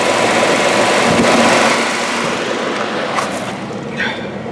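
Revived Jaguar XJ-SC engine, a five-speed car that had been non-running, runs close by with a loud, steady, rough roar that eases slightly toward the end.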